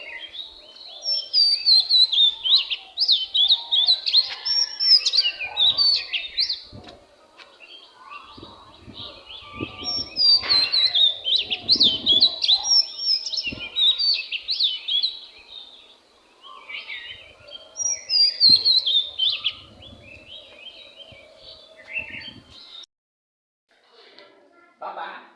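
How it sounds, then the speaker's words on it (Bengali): Morning birdsong on an Eid morning: several birds chirp and warble in bursts, fairly near, with pauses and faint background rustles and low sounds between phrases. "পাখির ডাক শোনাই।"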